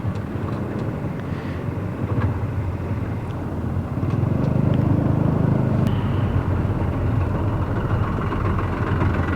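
A truck engine rumbles steadily nearby on an Indonesian roadside, a low continuous drone that swells louder midway as the heavy vehicle draws closer, with no talking over it.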